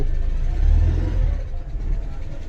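A car's engine runs loud and close, swelling as it pulls away on a picnic trip, with voices speaking over the steady rumble.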